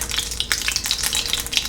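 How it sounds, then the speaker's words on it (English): Butter sizzling in a pan on a stovetop set to low heat, a close, steady crackle with small pops scattered throughout. "the butter's slowing down with sizzling"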